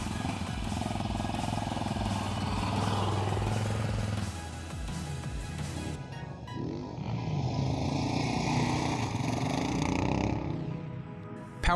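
Prototype Yamaha Raptor 700 sport ATV ridden hard off-road, its engine roaring and revving through a turn, loud and rough, dipping briefly midway before surging again.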